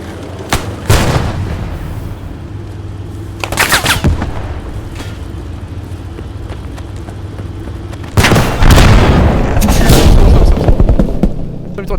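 Tank cannon fire in an online armored battle game, several loud booming shots with sharp attacks and long rumbling tails, spaced a few seconds apart, the last blast heaviest and sustained, with brief player voice chat between shots.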